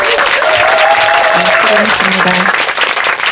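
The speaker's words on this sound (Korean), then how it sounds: "큰 박수 다시 부탁드리겠습니다" Applause from an audience at a book talk with poet Jeong Ho-seung at Pyeongsan Bookshop, a dense, steady wash of clapping lasting throughout while a voice speaks over it.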